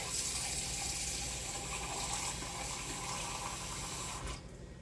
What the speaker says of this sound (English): fill it up with warm water to 1 cup.